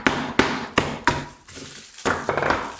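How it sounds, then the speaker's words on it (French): Frozen strawberries tapped and knocked apart in a kitchen, a series of sharp, close hard knocks at an uneven rhythm, each ending in a short clatter. "on va juste tapoter les fraises comme ça pour les séparer"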